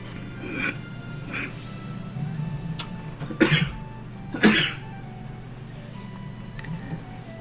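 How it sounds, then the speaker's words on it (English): Someone has a coughing fit from an itchy throat, several separate harsh coughs spread over a few seconds, two louder and heavier in the middle, close by over a low steady hum. "you get this heaving of coughing coming up, that's what it is"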